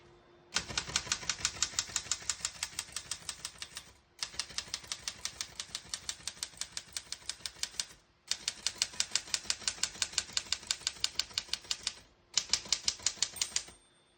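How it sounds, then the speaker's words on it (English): Rapid, even clacking of a 1948 Remington De Luxe manual portable typewriter in four bursts, each typing run separated by a brief pause, close and crisp. "Once you hear the bell, you're at the end of the margin."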